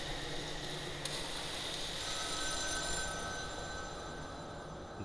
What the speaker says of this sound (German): Ein Telefon.